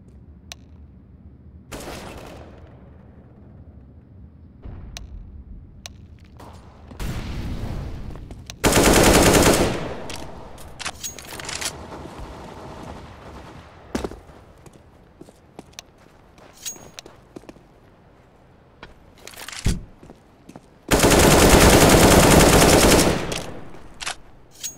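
Heavy gunfire from a CS:GO match on the Dust2 map: scattered single shots and short bursts, then two long, loud sustained volleys of automatic fire, mixed with footsteps and quieter game sounds in between.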